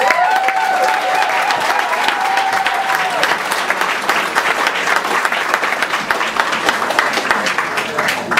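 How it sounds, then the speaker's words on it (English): Crowd at a BettaKultcha evening in Leeds applauds loudly and enthusiastically for David Price, thick continuous clapping with a whoop or sung tone early on, lasting the whole stretch. "Please give a big round of applause, love and respect and enthusiasm for Mr. David Price!"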